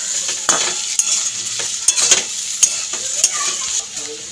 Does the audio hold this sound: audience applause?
no